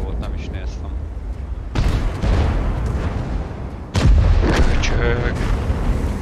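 Gunfire in an online shooter game, several loud, booming shots with sharp attacks and ringing tails over a noisy game background.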